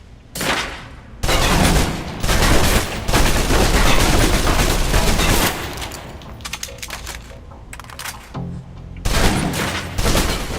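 A submachine gun in the video game Alpha Protocol empties a full magazine in long, loud continuous bursts of rapid fire, with brief pauses between volleys, close and dominant with no voices.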